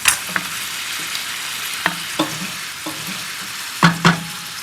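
Butter sizzles in a pan of brown sugar glazed carrots, a steady close frying hiss punctuated by several short stirring scrapes, with no talking.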